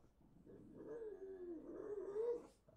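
A dog named Lulu lets out a faint, drawn-out wavering howl that slides into a whimper, one continuous quiet vocalization lasting a couple of seconds indoors.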